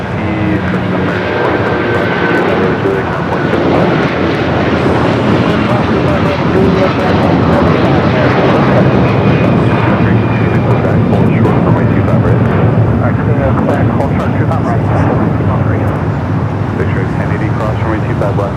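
An Airbus A380 departs from LAX, its loud, steady engine roar filling the whole stretch alongside wind noise, with radio and spotter voices talking over it.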